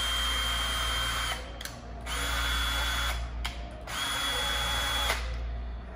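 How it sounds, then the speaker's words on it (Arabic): Makita DHP453 cordless hammer drill set to hammer mode, running in three steady loud whirring bursts with short pauses between them, no talking. "والوضع الاخير اللي هو الهامرنج لو حابب تخرم فيه الجدران فبتظبط على وضع الهامر"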